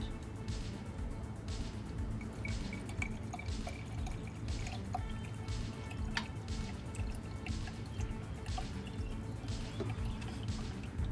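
Water poured into a new rain drain on a DeLorean trickles through and drips into a cup underneath, with a continuous trickle broken by rapid, irregular close drips.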